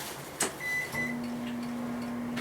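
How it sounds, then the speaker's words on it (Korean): A microwave oven starts up to warm a tortilla pizza: a short beep, then a steady low hum running on alone, moderately loud and nearby. "전자레인지에다가 한 5초만 돌려볼까요?"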